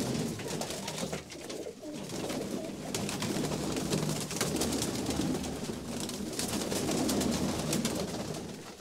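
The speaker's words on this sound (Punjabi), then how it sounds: "ਬਾਈ ਨੂੰ ਫੜ ਕੇ ਦਿਖਾਈ ਰਾਜ ਨਾਲ ਕਬੂਤਰ" Racing pigeons at a pigeon club coo softly and continuously up close, their low murmuring calls overlapping with rustling and flutter-like noise.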